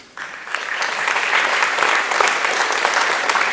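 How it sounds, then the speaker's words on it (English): Audience applause fills the room at an athletic awards banquet as a student comes forward for a certificate, starting abruptly and then building into a loud, sustained patter of many hands. "If you could just hold the applause"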